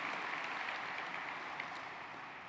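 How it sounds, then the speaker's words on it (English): Audience applause fills a gala room for the Mental Health Association of New York City, a steady, dense wash of many hands clapping at fairly even loudness throughout, with no voices on top. "everybody a round of applause for these terrific, very committed people"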